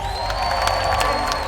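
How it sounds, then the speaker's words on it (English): A crowd applauds and cheers, clapping blending into a dense wash with a few sharper shouts on top. "A round of applause one more time."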